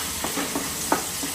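Ingredients hiss and sizzle steadily in a hot pan, with three or four soft stirring strokes and scrapes spaced across the short stretch, close by and without talk.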